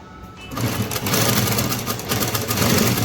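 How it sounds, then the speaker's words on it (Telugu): A sewing machine runs steadily, stitching through cloth with a fast, even whirring hum that starts after a brief pause and continues loud and close. "ఇలా అనేది కుట్టు వేసేసుకోవడమే"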